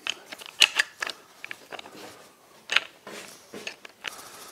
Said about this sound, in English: I'm going to put a pair of clamps on